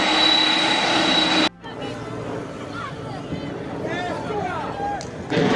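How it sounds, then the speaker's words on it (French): A propeller airplane carrying 35 tonnes of aid cargo drones loudly and steadily, cutting off abruptly and leaving a quieter rumbling background with a voice speaking over it. "Cet avion, constitué de ces 35 tonnes, est une première rotation qui sera complétée dans les tout prochains jours."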